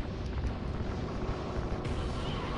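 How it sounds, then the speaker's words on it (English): Deep rumbling blast from an explosion in Call of Duty: Ghosts, with a roaring, noisy wash that swells and fades over a couple of seconds, loud and close. "Explosions!"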